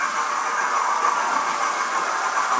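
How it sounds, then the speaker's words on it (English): A model railway train runs on layout track, giving a steady, close whirring hiss with a faint rolling rattle that continues unbroken throughout, with no talking. "I can actually run that and control this train here, or control that train"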